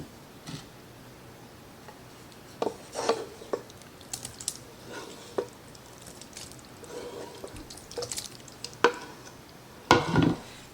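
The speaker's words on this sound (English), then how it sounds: "I'm just stirring it around to cool it off." A spoon stirs a pan of squash chicken and dressing to cool it, giving soft, irregular scraping and clinking taps scattered through the clip, fairly close and quiet, without speech.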